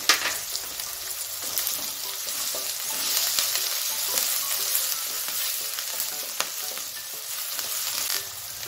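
Curry leaves and ginger-garlic paste sizzle in hot oil for vegetable fried rice, a steady bright crackle running the whole time with light stirring, close and fairly quiet, no voices.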